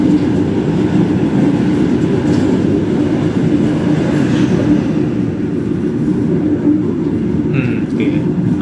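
A Taksaka passenger train rolls along steadily, a dense continuous rumble of wheels on rails with faint metallic squeals, heard close and loud from on board or beside the track throughout.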